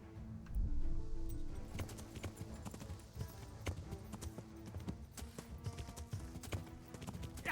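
Horse hooves clip-clop in an uneven trot in the video game Kingdom Come: Deliverance, moderately close, with a faint neigh and background game sounds.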